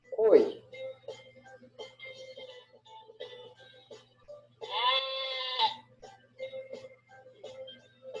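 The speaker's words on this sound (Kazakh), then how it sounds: "ешкі," A goat bleats once in a wavering, nasal cry, standing out clearly over soft background voices and faint ambient noise.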